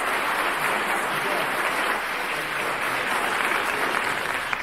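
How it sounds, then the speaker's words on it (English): Sustained audience applause for a band at a Folk Masters concert, a dense steady wash of many hands clapping throughout, fairly loud and unbroken. "Give them a round of applause."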